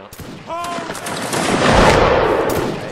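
A line of soldiers fires a musket volley in a video game, a ragged crackling burst of many shots that swells into a dense, rumbling roar. A voice talks briefly over the start.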